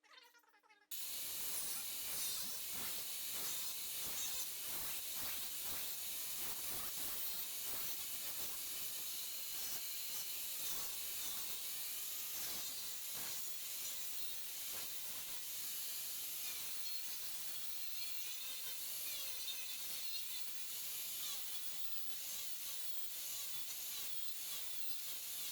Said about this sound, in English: let's sand down the other side